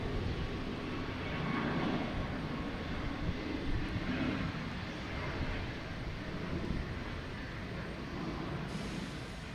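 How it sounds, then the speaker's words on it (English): An airplane taking off from a runway at Boston Logan Airport, heard as a steady, broad engine roar that holds fairly loud and even throughout without a clear rise or fade. "All right, 4 right, clear for takeoff."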